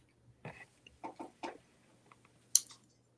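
Chickens cluck in short, separate bursts, several soft calls spaced across the moment and ending in one sharper, higher squawk, close by against a quiet backyard.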